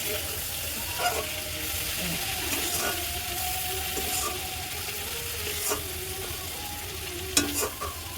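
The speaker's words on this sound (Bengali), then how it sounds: "এই দেখো চিংড়ি মাছ তো ভাজা হয়ে গেছে" Prawns frying in oil in a wok, a steady soft sizzle running throughout with occasional scraping and stirring clinks from utensils, fairly close and even in level.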